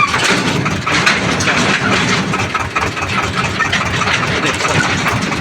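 A tractor engine idles near village farm fields, a loud, steady low rumble that runs throughout with no break in rhythm.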